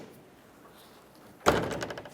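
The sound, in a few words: Ford F-150 tailgate being opened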